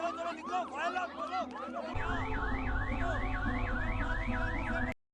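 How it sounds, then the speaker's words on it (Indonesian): A loud electronic fire alarm wails, first in short rising chirps, then in a steady up-and-down warble, before cutting off abruptly. "Tiba-tiba alarm kebakaran berbunyi."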